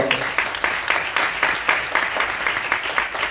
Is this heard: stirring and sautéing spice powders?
no